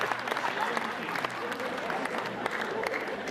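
A seated audience at a Hindi comedy poetry gathering claps together in a brief, steady wash of applause.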